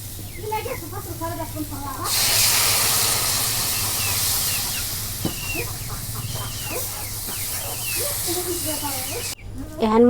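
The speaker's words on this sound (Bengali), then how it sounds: "এখন মশলা কষাবের নিগে পানি দিয়ে দিই।" Water poured onto spices frying in oil on a clay stove sets off a sudden loud, sustained hiss that continues under intermittent voices, with a brief stirring knock partway through.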